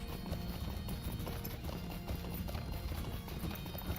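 Hooves of a horse gallop in Lord of the Rings Online, a fast, dense, continuous clatter of beats that stays steady and close for the whole stretch.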